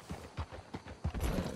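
Horse hooves clip-clop in Red Dead Redemption 2, a steady run of close, dull thuds at a walking pace on dirt.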